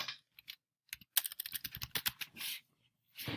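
Quick bursts of keystrokes on a computer keyboard, close and crisp, with an irregular rhythm of short pauses and a few heavier presses near the end, no voices.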